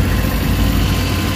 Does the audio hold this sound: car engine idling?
yes